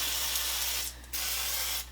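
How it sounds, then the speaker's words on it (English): Two bursts of fine hissing spray from a pump olive oil mister coating a loaf pan, close and steady, with a brief pause between them. "in a loaf pan, we will spray it with some nonstick spray"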